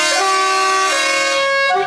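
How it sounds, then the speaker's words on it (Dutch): A loud, sustained vehicle horn blares for nearly two seconds, its steady tone shifting pitch slightly partway through, with no talking over it. "Dikke toeter?"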